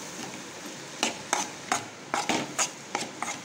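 Dried anchovy masala sautéing in a pan, with a steady soft sizzle broken by several sharp scraping and stirring strokes of a spoon against the pan, close and moderately loud, no talking.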